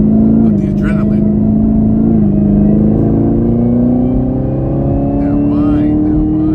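A 2019 Camaro ZL1 accelerates hard from inside the cabin, its engine droning loud and rising in pitch with a gear change partway through, steady and close.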